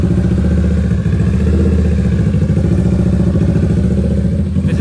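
Kawasaki Ninja 650 with a DRIFT XAUST exhaust idling close by, a steady loud low rumble with rapid even pulsing that holds throughout, no voices.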